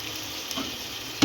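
Onion and curry leaves frying in hot oil for mutton halim, a steady close sizzle with soft stirring throughout and a sharper spatter near the end.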